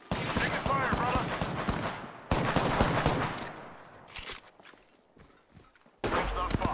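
Rapid, dense gunfire from a Halo-style video game rattles in loud sustained bursts. The firing dips briefly mid-clip and then resumes abruptly, with game voices mixed in.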